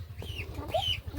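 Ducks being herded into their house at a village home, giving a few short clucking and honking calls over a low background rumble, close by.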